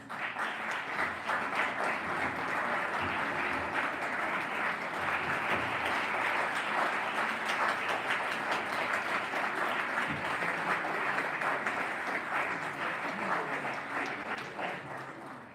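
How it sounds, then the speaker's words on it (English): Sustained, dense applause from an audience at a moot court pre-competition event honoring the team coaches, steady and even for about fifteen seconds before easing slightly at the end. "Could I ask that the coaches stand up so that we can all give them a round of applause?"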